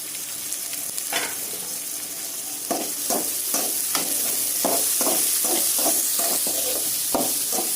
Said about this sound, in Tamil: தேங்காய் இதை போட்டு வதக்கணும்